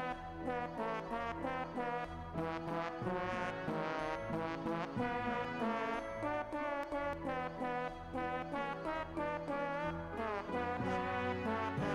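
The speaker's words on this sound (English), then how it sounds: "The air horns throw me off so much." Blaring air horns in the trombone rhythm game Trombone Champ, honking in loud repeated rhythmic blasts over the music in a dense, steady pattern.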